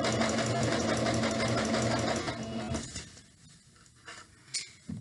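Sewing machine stitching a pillowcase, a fast close rhythmic needle patter for about three seconds before stopping, followed by a few faint handling taps.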